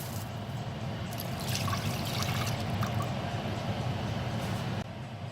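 A cup of pineapple juice is poured for homemade DC mumbo sauce, making a soft continuous trickling stream that runs evenly for several seconds before stopping abruptly.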